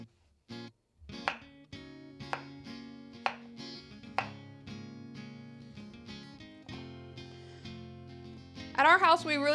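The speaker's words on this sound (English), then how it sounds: "we'll go ahead and chop some of the green pepper up" A knife chops green pepper for campfire kabobs, a run of sharp, evenly spaced taps on a cutting board close up, with a few quicker cuts near the end.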